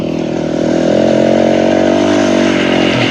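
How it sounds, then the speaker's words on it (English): A Kove 450 Rally motorcycle engine runs loud and steady close by, a dense buzzing drone with a slight rise in pitch, with no talk over it. "So what I hear from folks and seen on the reviews is it's a loud bike."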